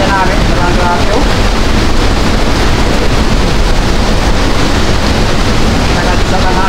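Strong super typhoon wind roars steadily at Baler, Aurora, a loud, unbroken rush of gusting air buffeting the microphone throughout, with no let-up.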